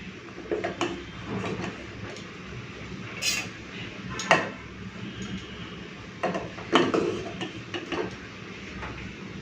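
Rice served from a pot with a utensil in a home kitchen, scattered metallic scrapes and clinks in irregular bursts, a few sharper knocks standing out against quiet background.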